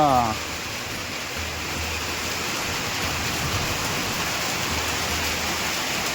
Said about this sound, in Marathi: बघा अजून तुम्हाला दाखवतोय एवढं पाणी जर एका शेतातून वाहत असेल